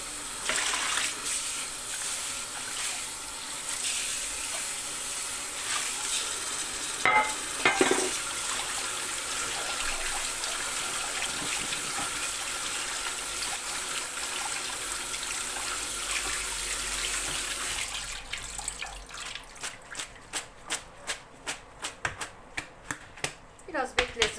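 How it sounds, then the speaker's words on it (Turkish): Cold tap water runs over sliced onions being rinsed and left to drain for a lemon onion salad, a steady hiss of running water, then a run of sharp, rapid clicks and taps near the end. "Şöyle soğuk suyla yıkayalım süzülsün."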